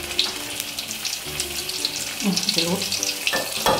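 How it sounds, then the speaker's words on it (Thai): Nam ngiao chili paste roasting in hot oil in a pan, a bright crackling sizzle with stirring scrapes, heard close and steady while someone talks briefly over it. "คั่วพริกน้ำเนี้ยวของเรานะครับ"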